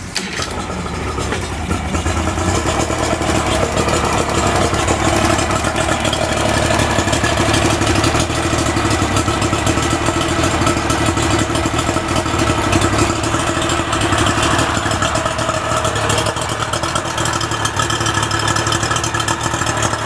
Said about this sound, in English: now I'm going to fire up the engine to make sure everything is running correctly